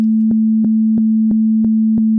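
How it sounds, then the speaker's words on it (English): A steady low sine tone from a Serum 2 synthesizer plays with no break at 180 BPM, and faint clicks mark each repeated note at an even, fast rhythm, about three per second. "initialize your preset and select a sine wave"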